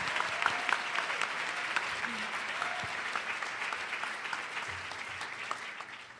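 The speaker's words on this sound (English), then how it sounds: "Please join me in a round of applause for the Ballet Folklorico group from Woodrow Wilson High School." An evening welcome-event audience claps for a high school ballet folklorico group, a steady, fairly distant wash of applause with a few brief tones rising through it.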